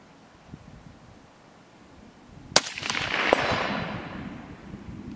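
One sharp, sudden crack from a suppressed Aero Precision M5E1 .308 rifle, fired at a target 200 yards away, cuts through quiet outdoor air and is followed by a few seconds of rushing, fading noise.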